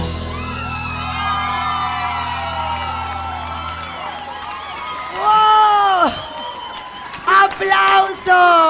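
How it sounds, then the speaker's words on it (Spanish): A studio audience at a Panamanian TV singing competition bursts into loud cheering, whoops and yells after a reggaeton duet as the music fades, with two separate swells of crowd noise. "aplauso"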